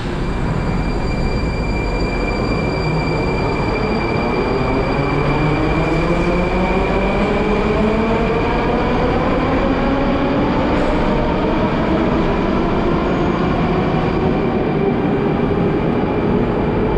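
A Moscow metro train running underground, with a loud sustained roar and rising and falling motor whine sweeping through the carriage, steady tones above, no talk throughout.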